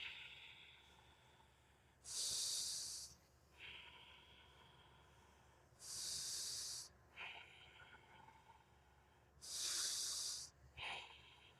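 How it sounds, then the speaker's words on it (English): Deep, slow breaths drawn in and pushed out through the nose, three long hissing cycles about four seconds apart, close and fairly quiet with faint breathy pauses between. "Let's take a deep, deep inhale into the nose and deep exhale into the nose."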